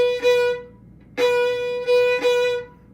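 Plain fiddle notes without a tie, in Irish traditional style, sound as three separate bowed tones at one steady pitch, each restarting with a fresh attack, close and alone.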